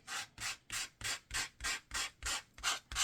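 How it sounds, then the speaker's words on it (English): Light sanding across the top of colored cardstock, a soft rasping rub repeated in about nine even, rhythmic strokes, close and quiet. "And to make them pop even more, I'm going to sand the top lightly."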